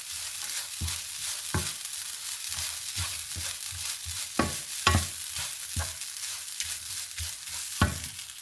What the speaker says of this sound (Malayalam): അങ്ങനെ തേങ്ങ ഏകദേശം വറുത്ത് റെഡി ആവുന്നുണ്ട്.